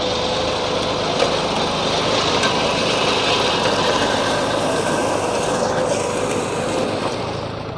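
A John Deere 5055E tractor with a 12x12 gearbox runs steadily, its engine a smooth, continuous near drone with a soft, even tone that holds level throughout without any talking.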